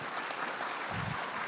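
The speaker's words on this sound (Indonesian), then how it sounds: "Boleh tepuk tangan buat semuanya." Audience applause at an Indonesian organisation's national working meeting, steady dense clapping throughout, moderately faint and somewhat distant.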